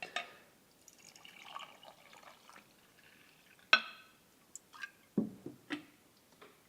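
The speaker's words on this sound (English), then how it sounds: "So let's pour some brewed coffee." Brewed coffee is poured into a mug in a quiet room, with soft splashes and scattered drips and clinks that come in a few separate bursts rather than one steady stream.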